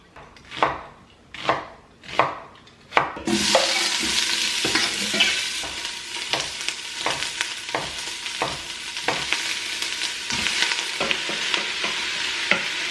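Olive oil heats on the saute setting of a crockpot, first a few separate thumps of something dropped in, then a continuous close, moderately loud sizzle with intermittent crackles and pops throughout.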